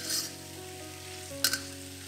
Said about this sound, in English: Stir fry this till the sauce has thickened and the beef slices are well coated.